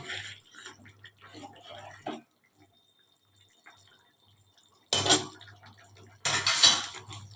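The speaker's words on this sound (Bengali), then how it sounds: "আর একটু দিয়ে দেবো গরম মশলা গুঁড়ো আর ঘি দিয়ে একটু ভালো করে নেড়ে নেবো" Paneer with crushed fenugreek, garam masala and ghee is stirred in a pan, making scraping clinks of a utensil against metal. The stirring comes in short bursts separated by a quiet gap, close and moderately loud.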